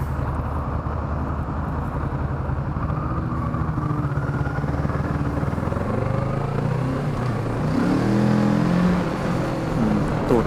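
A Kawasaki Z650 motorcycle engine runs steadily and loud for a sustained stretch, rising in pitch and intensity toward the end as the bike accelerates, heard close with no talking.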